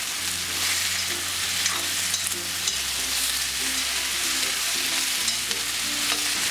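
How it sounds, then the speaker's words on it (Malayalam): Onion and potato sauté in a pan for an egg potato curry, giving a steady, close sizzle with soft stirring scrapes and no voices. "ഒരു 3 മിനിറ്റ് ഇങ്ങനെ വഴറ്റി കൊടുക്കാം"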